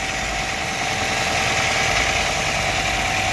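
A car engine idles steadily with its alternator and belts running, a continuous close mechanical hum with a bright whine, loud and unbroken with no talk.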